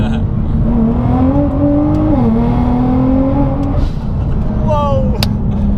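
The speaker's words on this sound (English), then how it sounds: "As far as acceleration, let's do a few downshifts." A Nissan GT-R with a Rocket Bunny body kit pulls hard through downshifts, its engine droning loud and steady with rising pitch sweeps, a dip as it shifts, then climbing again, close to the microphone.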